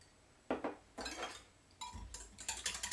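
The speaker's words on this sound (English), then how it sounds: "Whisk that together real quick." Melted butter, milk and egg yolks whisked together in a bowl, a few quick metal clinks and scraping strokes that grow busier toward the end, close and moderately loud.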